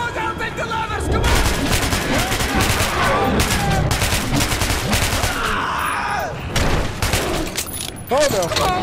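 Gunfire in the video game Metro 2033, dense bursts of automatic shots and heavy booms crackling in rapid clusters, loud and close, with players shouting over the shooting.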